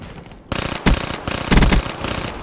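Short bursts of SMG fire in Black Ops 3, several loud, closely spaced volleys with brief gaps between them, no speech.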